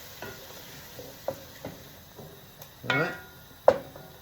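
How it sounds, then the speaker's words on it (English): Tomatoes stirred around in a sizzling pan for a chicken curry, with soft scraping and a few clinks of utensil on metal over a steady low frying hiss. "Tomatoes go in. Give those a stir around."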